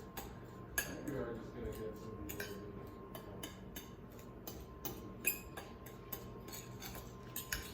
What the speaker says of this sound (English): I'm gonna break up the sugar so it's mixed up a little better.